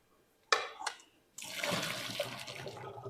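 Water from a pot of blanched potatoes pours out in a sudden loud gush, following two brief splashy knocks, then a steady rushing drain that fills the rest, close and alone.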